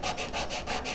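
Wood being hand-sanded with coarse 100 grit sandpaper to remove saw marks, a steady rhythmic scratching in quick back-and-forth strokes, close and fairly loud, with no talk.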